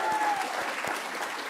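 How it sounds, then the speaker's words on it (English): Audience applause for a panel speaker at a First Nations National Guardians Gathering, with a crowd clapping steadily and close throughout the brief moment. "Could you give a round of applause for Dr. Amy Cardinal Christensen"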